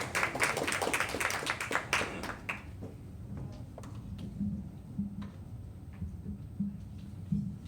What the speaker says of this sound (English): Shall we give him a big round of applause